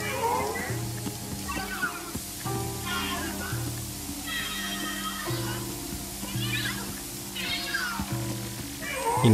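Cat in a bathtub in the Luigi's Mansion 3 video game, meowing and yowling repeatedly in drawn-out wavering cries over running water and game music, with talking in between.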